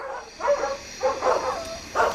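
Several dogs barking in quick bursts, three or four clustered volleys of overlapping barks and yips with short gaps between, fairly close and clear.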